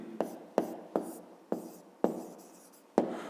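Pen writing a math solution by hand on paper, a series of six sharp scratchy strokes and taps spaced about half a second apart, close and clear with no talk.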